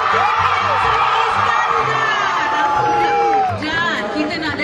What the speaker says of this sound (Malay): nak dengar sorakan semangat daripada anda para graduan